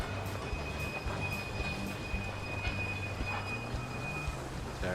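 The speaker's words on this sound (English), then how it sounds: "Where's a train? Is that pulling into our station?" In the Railway Empire video game, a train rumbles steadily into a station with a thin, sustained wheel squeal above the low rolling noise, with no talking.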